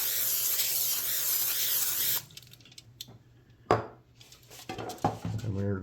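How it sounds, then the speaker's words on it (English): Olive oil cooking spray hisses onto a baking sheet in a home kitchen, a loud close burst lasting about two seconds, followed by quieter clinks and handling of pans. "just spray it with some olive oil cooking spray"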